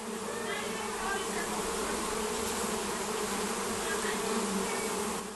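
Dense, continuous buzzing of many honey bees, steady and close, with no voices.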